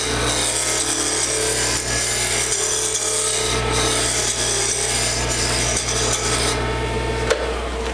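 Wood lathe with a gouge cutting a turned wood Christmas ornament, giving a continuous rough scraping and rasping over the lathe's steady motor hum; close and loud throughout, with no speech.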